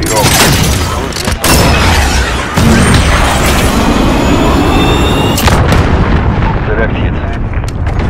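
Call of Duty Modern Warfare battle with a cruise missile launch roaring and heavy explosions booming continuously, loud and close, with a brief drop before the blast swells again; a radio voice speaks over the din.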